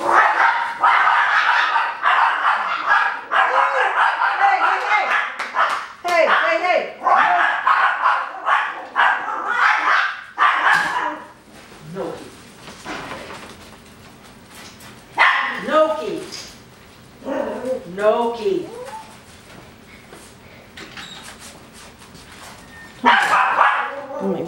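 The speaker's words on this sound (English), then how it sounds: "we have visiting dogs" Coton de Tulear puppies and visiting dogs bark and yip in repeated close bursts, with quieter stretches and people talking at times.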